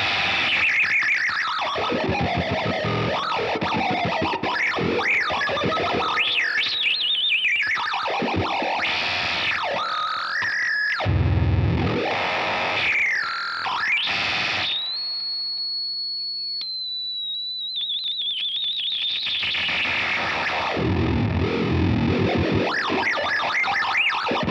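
Manson MA-25 EVO guitar played through MIDI-controlled effects presets, producing sweeping, warbling synth-like tones, pitch-gliding squeals and a sustained sine-like whine, loud and continuous with no talking.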